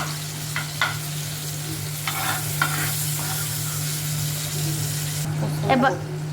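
Tomatoes fry in a pan while being stirred, with a continuous sizzle, a low steady hum, and intermittent scraping strokes of a utensil. The scraping grows busier near the end, and a voice is faintly present.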